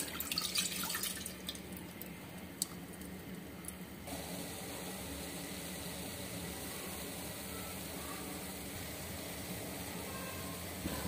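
Large glass of milk poured into simmering tea, a steady liquid trickle and pour with splashy drips early on, continuing evenly and fairly quiet.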